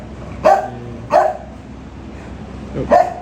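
At a kennel of American Bully dogs, three loud separate barks ring out close by at uneven intervals over a quiet background hum.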